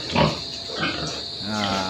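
Pigs on a small farm grunt close by, ending in a longer drawn-out squeal against constant background noise.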